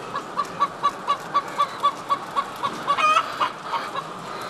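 Hens cluck repeatedly in a henhouse, a steady run of short rhythmic calls at close range with a brief louder flurry partway through, and no talking.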